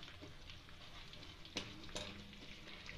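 Edible gum (gond) roasting in a pan over a low flame while being stirred, a soft steady sizzle with a couple of brief scraping clinks from the spoon, quiet and close with no talking.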